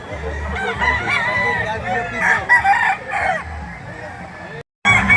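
Rooster crowing at a busy chicken market in Lipa City, Batangas, with several loud crows in a row, then a brief break. Vendors and buyers chatter in the background.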